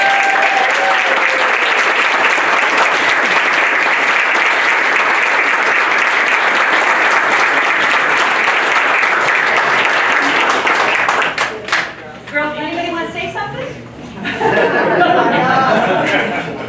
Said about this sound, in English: One last round of applause for us.